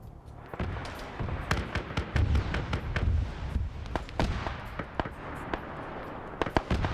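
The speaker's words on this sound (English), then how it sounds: "there's the autocannon immediately smacking them" A video game autocannon fires during an island takeover battle, producing rapid, irregular bursts of sharp cracks and thuds over a steady roar of combat.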